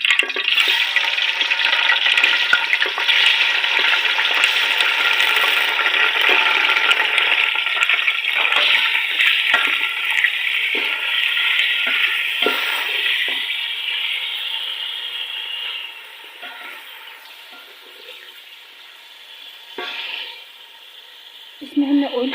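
Chicken frying in oil in a pan, after cumin seeds were toasted, gives a loud, dense hissing sizzle that stays strong for most of the stretch, then settles and fades toward the end.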